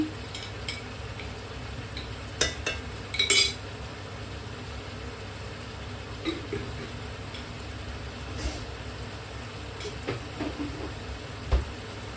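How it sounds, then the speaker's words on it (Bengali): Ginger and garlic sautéing for biryani: a steady low sizzle in a pot, broken by occasional spoon scrapes and clinks against the metal, with no talking. "আদা রসুনটা দিয়ে আর একটু কষাই"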